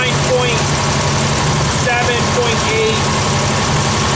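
A Kubelwagen engine idles roughly mid-tune-up, running steady, loud and close with an uneven low throb and mechanical chatter, while a voice talks over it.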